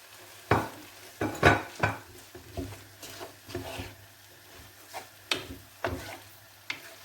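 Spices are tipped into seafood paella frying in a pan, giving a series of close, irregular stirring scrapes and soft taps over a low, steady sizzle, with no talk.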